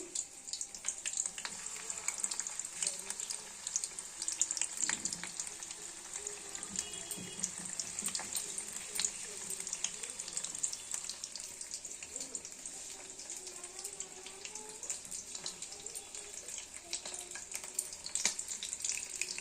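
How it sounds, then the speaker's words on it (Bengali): Steady crackling sizzle of fish frying in hot oil at medium heat, a continuous hiss with scattered pops, fairly close and without any talking. "দুটো ভাজা হতে থাক।"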